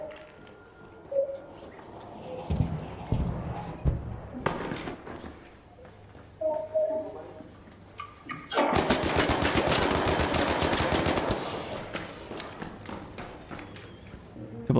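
Automatic gunfire from the video game ARC Raiders bursts out loud and sustained in the second half, following scattered thumps and softer game sounds earlier on.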